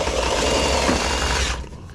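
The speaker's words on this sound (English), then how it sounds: "right there, I'm putting a couple screws in it." A power driver runs screws into HVAC ductwork, giving a close, steady whirring drone for about a second and a half before it stops.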